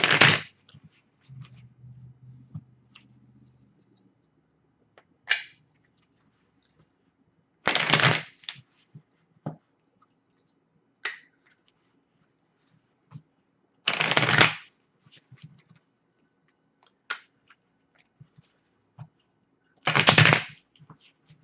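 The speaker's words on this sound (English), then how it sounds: "So let's shuffle just a couple more times." Tarot cards shuffled by hand in several quick bursts, each a brisk riffling flutter, separated by quieter pauses with light card handling and faint taps.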